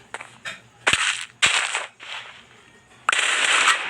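Gunfire from a weapon in Minecraft, roughly six sharp cracking shots at irregular intervals, each followed by a short crackling burst and decay, loud and close with no talk.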